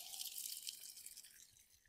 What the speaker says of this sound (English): you want to give it a large drink of water